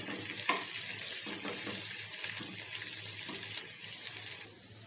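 Onions frying in hot oil in a pan while being stirred, a soft steady sizzle with scraping and clinks of the spoon, quiet and unaccompanied by voices.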